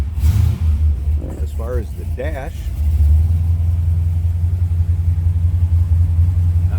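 A 1968 Chevrolet Impala V8 engine turns over and settles into a steady, low idle rumble, with someone talking briefly over it early on.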